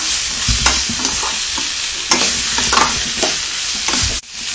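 Capsicum stir-frying in a pan with garam masala and pepper gives a continuous sizzle, broken by repeated scraping stirs, close and loud, ending with an abrupt knock and no speech.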